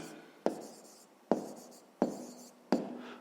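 Pen strokes on paper while writing a math answer, four distinct sharp taps each followed by a short scratchy trail, quiet and close with no voices.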